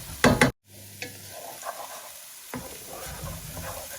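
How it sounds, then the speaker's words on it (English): Spiced chickpeas are stirred and shaken in a hot pan, with a couple of sharp scraping strokes, a brief pause, then scattered clinks and a continuous gentle sizzle. "Give it a quick stir and a shake."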